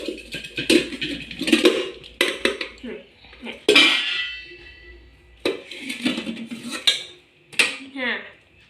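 Metal cooking pots clanging and scraping as they are pulled out of a kitchen stack and handled, sharp irregular clanks and rattles close by, with someone talking in between.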